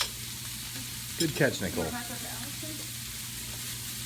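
Mushrooms and steak sear in butter in a hot pan, a steady sizzle running throughout with a brief clatter of stirring near the middle, while a voice speaks briefly.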